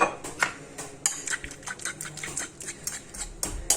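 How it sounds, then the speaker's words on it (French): Spoon clinking and scraping in a pot while stirring olive oil into a sauce for meat-filled briouates, a series of light, irregular metallic taps and scrapes, close and fairly quiet. "maintenant on met un peu de l'huile d'olive et on mélange"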